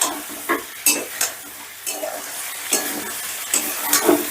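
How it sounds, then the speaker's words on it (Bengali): Ginger, garlic, tomato and green chili masala being sautéed over a medium gas flame for potato pulao: a soft continuous sizzle broken by repeated scraping strokes of a spoon against the pan, close and moderately loud, with no talk. "এবারে সমস্তটা আবারও আমি বেশ ভালো করে কষে নেব, মানে আদা রসুন টমেটো বা কাঁচা লঙ্কার যতক্ষণ কাঁচা গন্ধটা না যাচ্ছে ততক্ষণ কষে নেব"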